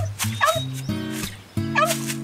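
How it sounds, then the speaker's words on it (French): A dog in a video game barks and whimpers in short, close, loud bursts, high yips mixing with lower whines over a few seconds. "Le chien est zombifié!"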